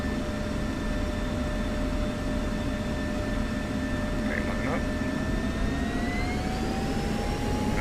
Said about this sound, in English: We'll do a center line takeoff here. 170 knots rotation. We'll go afterburner.